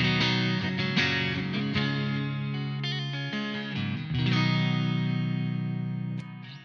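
An electric guitar on its neck pickup plays a sustained chord passage with a smooth, warm clean tone and light reverb and delay, notes ringing out and shifting between chords.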